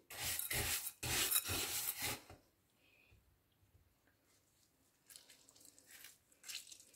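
A salt scrub with lemon is stirred and rubbed in a bowl in a few bursts of gritty scraping, near and crisp, then a pause before softer scraping resumes.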